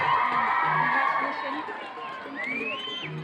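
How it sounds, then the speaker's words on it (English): At a school's annual sports meet, a crowd of children cheers and shouts outdoors, with overlapping voices, whoops and chatter forming a lively, moderately loud din, and one high rising yell near the end. "Please cheer for your team."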